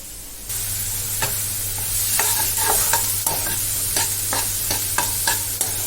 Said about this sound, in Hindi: इनको अच्छे से फ्राई किया जाएगा।